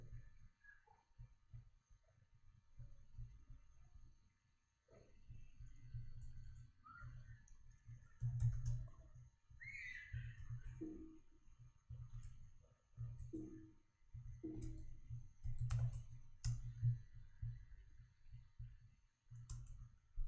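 Computer keys clicking in quick irregular bursts while code is typed, fairly close and moderately quiet, with short pauses between runs of keystrokes and no talking.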